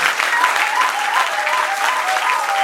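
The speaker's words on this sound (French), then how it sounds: "Donnons des acclamations royales." A worship congregation gives sustained, dense applause, a continuous crackling wash of many hands clapping, loud and steady throughout, with faint voices or cheers woven underneath.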